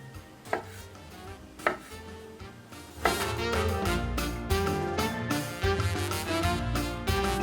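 A knife slices cherry tomatoes in half on a cutting board, two isolated taps followed by a denser run of quick cuts and clatter, fairly close and with no talking.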